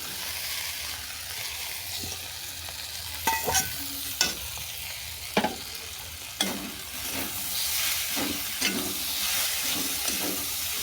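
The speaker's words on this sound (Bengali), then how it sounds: "চিচিংড়িটাকে ভালো করে মিশিয়ে নিলাম" Fried snake gourd being turned into a sizzling spice mixture in a pan, with a steady frying hiss broken by repeated scraping stirs of the spoon.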